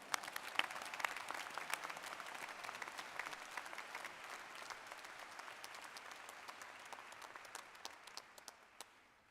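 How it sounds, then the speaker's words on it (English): A crowd applauds steadily in a hall at the Medical College of Wisconsin's 2022 commencement ceremony in Milwaukee, with dense, even clapping that holds for several seconds and thins slightly toward the end. "let's give a round of applause there"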